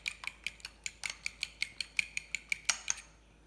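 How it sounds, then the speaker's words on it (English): Eggs whisked briskly with a fork against a bowl: a rapid, even train of about fifteen sharp metallic clicks, close and clear, with no talking. "For our omelet, you want to whisk it really nice."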